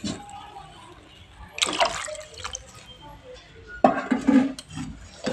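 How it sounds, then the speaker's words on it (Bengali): Water pours into a pan of cooked-down spice paste for soybean curry in two short splashing bursts, with quieter kitchen clatter and faint sizzling between them. "এবার আমি এর মধ্যে কিছুটা পরিমাণ জল অ্যাড করে দিচ্ছি"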